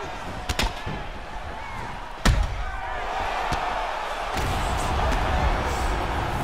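Knockout punch in the UFC 4 video game: a single sharp slam of impact in the middle, joined by a few quicker hits early on, over a steady roar of crowd noise that swells toward the end.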